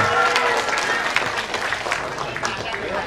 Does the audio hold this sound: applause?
yes